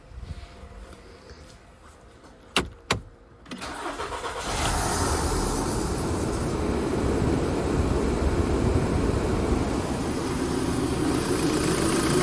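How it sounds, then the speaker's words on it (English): A VW Passat B6 with a 2.0 petrol engine and automatic gearbox, just after an oil and filter change, clicks and cranks twice, then catches and settles into a steady, loud, even idle that runs on alone. "I'm gonna start the engine and let it run for a little while."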